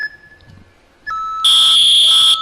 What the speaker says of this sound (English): So that's what that whistle is.